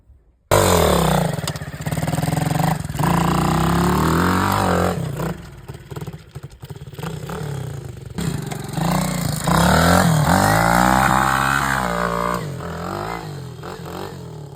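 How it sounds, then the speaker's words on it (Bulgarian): A motocross dirt bike fires up in a forest and revs hard, its loud, close engine roaring continuously with rising and falling throttle sweeps and a brief dip midway. "палим мотора и започваме"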